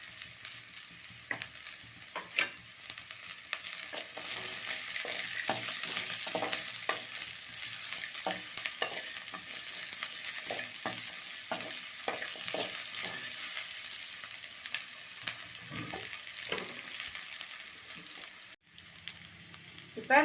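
Garlic frying in a pan for a sundakkai (turkey berry) thuvayal, giving a steady close sizzle with scattered stirring scrapes and clicks. The sizzle carries on throughout with no talk.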